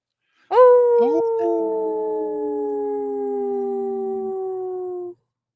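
Wolves howl in long, sustained, overlapping tones, two or more voices gliding slowly downward together for several seconds, loud and clear against near silence.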